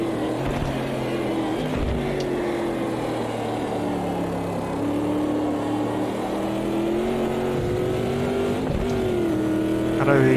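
A C2 Corvette Stingray split-window drones steadily through a race in the Automobilista 2 video game, its loud engine note holding near-constant with small rises and dips in pitch across the whole stretch.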